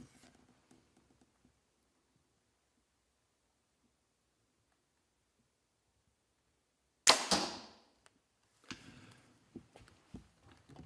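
A single arrow released from a compound bow with a NOCK2IT trigger-activated thumb release snaps off sharply at a range, followed by a brief rattle and a few soft knocks and taps, with near silence beforehand.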